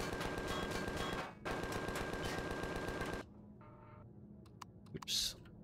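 Rapid automatic turret gunfire from Empyrion rattles loudly in two sustained bursts separated by a short gap, then cuts off, leaving faint clicks and a brief hiss.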